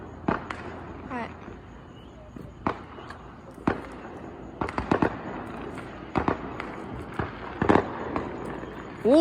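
Fourth of July fireworks bursting at a distance, a series of sharp pops and crackling booms scattered irregularly, some in quick clusters, with a person talking quietly between them.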